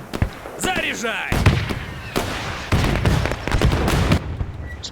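Repeated booming cannon and tank shots and sharp gunfire bursts from the WW2 strategy game Men of War II, dense and loud, with a few voices shouting in between.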